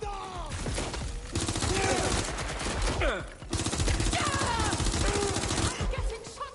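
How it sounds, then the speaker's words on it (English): Gunfire in Watch Dogs Legion aimed at the player, dense bursts of rapid automatic shots crackling loudly across the scene with a brief lull midway, voices calling out over the shooting. "I'm getting shot at here!"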